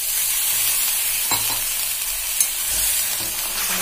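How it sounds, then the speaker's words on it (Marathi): Jaggery sizzles in a heavy pan after half a cup of water is added over very low heat. The hiss is close and continuous, with a few scraping clinks as it is stirred. "यात अर्धा कप आपण पाणी टाकलं आणि एकदम कमी गॅसवरती आपण हे गुळाचा पाक करून घेऊया।"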